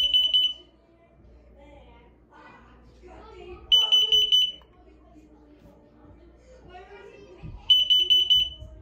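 Three loud bursts of high-pitched beeping from a combined smoke and carbon monoxide detector being tested after wall installation, separated by quieter stretches with soft talking and movement.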